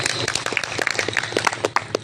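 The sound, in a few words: audience applause at a factory efficiency festival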